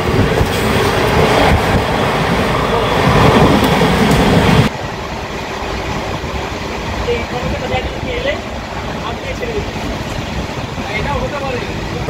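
The Sealdah–Jalpaiguri Road Humsafar Express, train 13115, runs through platform 1 at Kanchrapara station with a loud, continuous rumble of passing wagons that drops in level partway through. Voices are heard over it.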